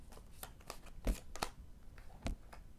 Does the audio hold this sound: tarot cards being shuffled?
yes